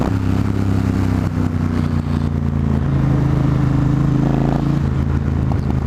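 A 2020 Triumph Rocket 3 R motorcycle rides under load, its engine a loud, close, continuous drone with shifting pitch as it pulls along, wind noise mixed in.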